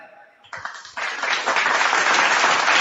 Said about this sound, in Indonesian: Kita sambut saudara kita yang berkualitas ini dengan tepuk tangan yang meraih